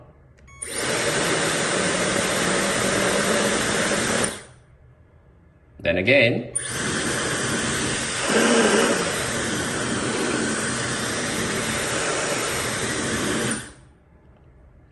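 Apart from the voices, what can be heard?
premium hair dryer running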